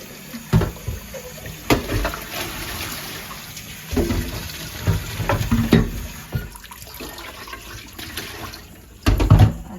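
Water is poured into a new wet grinder to rinse it, with repeated splashing and sloshing bursts against a steady background hiss, close by and moderately loud.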